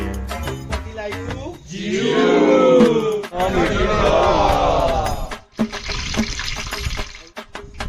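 Cooking oil pours into a pot for a Gujarati desi khichdo with cashews, giving a loud, sustained liquid rush and gurgle for several seconds, followed by softer clatter and background voices.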